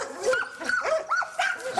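Hunting dogs tracking a marten through the forest bark and yelp in quick repeated bursts, loud and close, with rising and falling whine-like tones between the barks.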